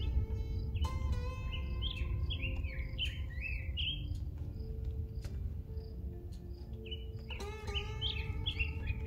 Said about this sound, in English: Pissed off hawk.